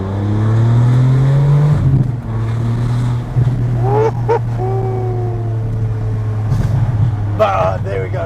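Ferrari 575M Maranello with an F1 gearbox driven with the windows open, its engine holding a deep steady drone with a rising rev early on and short sharp blips later, heard loudly from inside the car.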